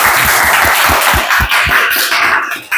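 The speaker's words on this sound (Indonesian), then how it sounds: "Ya, tepuk tangan dulu untuk temannya" Students in a class applauding a classmate, a dense continuous clapping with a few louder individual claps, close and sustained throughout.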